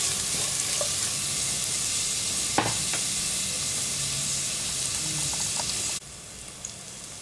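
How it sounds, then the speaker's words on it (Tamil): Onions frying in a pan for turkey berry sambar, a steady close crackling sizzle that holds loud for about six seconds and then drops abruptly to a quieter sizzle, with no voices. "இப்போ வெங்காயம் நல்லா வதங்கிடுச்சு."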